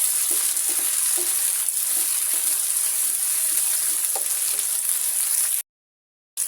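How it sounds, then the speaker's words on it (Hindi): Tomatoes fry in a pan with a loud, even sizzle and scattered crackles close up, running continuously before cutting to a brief silence near the end. "टमाटर को भी 1-2 मिनट के लिए फ्राई करना है"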